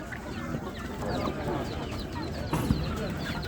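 Chickens and roosters at a poultry market in Ganja, clucking and squawking in a dense, continuous chorus at moderate distance, with a murmur of voices underneath.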